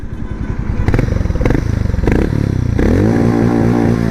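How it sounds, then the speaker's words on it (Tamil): A Harley-Davidson X440 motorcycle's exhaust revs close by, loud and throaty, climbing in several sharp bursts before settling into a steady, rising drone. "வண்டியோட எக்ஸாஸ்ட் சவுண்டையும் பார்த்துடலாம்."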